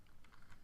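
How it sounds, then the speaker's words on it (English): A few quiet, quick key taps sound on a computer keyboard during 3D rendering work, faint clicks close by. "hit S on the keyboard again"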